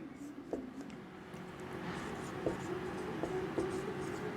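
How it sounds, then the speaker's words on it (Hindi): Chalk or marker writing a question on a classroom board during a coordinate geometry lecture, heard as faint scratching strokes and soft taps over steady room noise. "अब आपके पास एक क्वेश्चन लिखता हूं, क्वेश्चन लिखता हूं मैं एक छोटा सा।"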